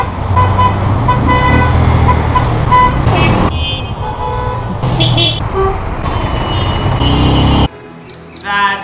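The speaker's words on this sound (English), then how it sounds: "the last one is a honking idiot" A car horn toots repeatedly amid loud, constant road traffic, the honks standing out over the dense rumble of passing vehicles.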